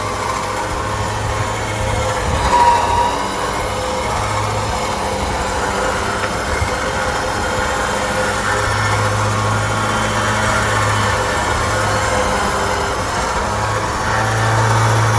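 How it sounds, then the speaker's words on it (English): Winch spooling in a new winch rope, with the rope guided evenly across the drum: a steady, loud, close motor drone with a low hum that rises and drops, continuous for the whole stretch. "we're guiding the rope so that it's spooling evenly across the winch and not bunching up onto one side"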